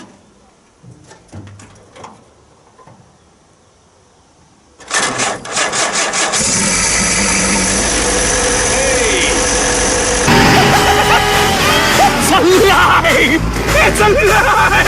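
A WW2 jeep engine cranks and catches, then settles into a loud, steady idle that runs continuously, with some quieter background noises before it starts.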